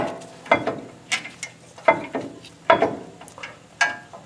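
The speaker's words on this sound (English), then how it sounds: "Get your bolts started, get one of them started here. And get the bottom one started." Bolts being started by hand on a 2011 Toyota Tacoma, a series of sharp metallic clicks and short ratcheting scrapes in an irregular rhythm, close and quiet, with no talk.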